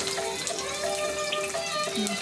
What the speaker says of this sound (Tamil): தண்ணி சுத்தமாக வடிச்சிட்டு போடணும்